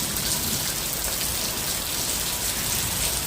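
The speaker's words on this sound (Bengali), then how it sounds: "জল বৃষ্টি একভাবে বৃষ্টি হয়েই যাচ্ছে।" Steady monsoon rain falls continuously outdoors over a waterlogged yard, an even, unbroken hiss of drops on surfaces with no thunder and no talking.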